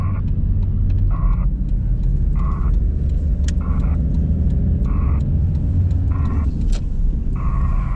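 Car cabin rumble drones steadily from a running engine during a U-turn while a turn signal clicks rhythmically throughout, close and continuous with no talking.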